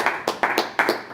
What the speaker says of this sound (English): Let's give a warm round of applause for Coco Beware.